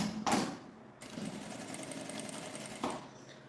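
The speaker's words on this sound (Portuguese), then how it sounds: "a gente vai passar uma costura de meio pé de máquina aqui, ó, na beiradinha aqui" Sewing machine running steadily through a short half-speed seam along the edge of fabric for a toiletry pouch, with a brief burst of stitching before a longer continuous run.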